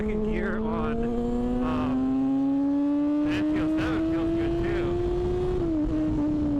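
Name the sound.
Yamaha FZ6 motorcycle accelerating through gears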